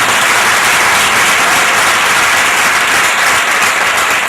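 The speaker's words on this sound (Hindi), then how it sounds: "कृपया जोरदार तालियां बजाएं।" Loud, dense applause from an audience at a ceremony, steady and unbroken throughout with no voices over it.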